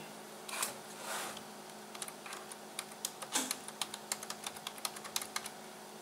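Someone types on a computer keyboard into a text box in Inventor 3D modeling software, with a quick run of close, crisp key clicks after a couple of softer rustles. No one speaks.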